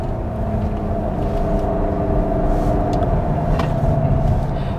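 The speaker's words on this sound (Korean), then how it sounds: "스포츠 모드로 주행을 하면서 변속기는 스포츠로 S모드로 두고 와인딩 코스를 한번 주행을 해보겠습니다." A front-wheel-drive Volkswagen Tiguan in sport mode with S-mode transmission on a winding road gives a steady engine drone with a held tonal hum under constant road noise, heard from inside the cabin.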